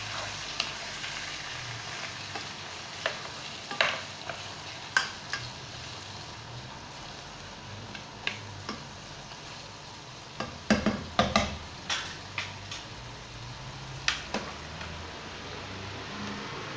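Onions fry in oil for a red chicken spaghetti sauce, a steady sizzle broken by sharp scraping stirs of a utensil against the pan, clustering heavily near the middle and continuing after.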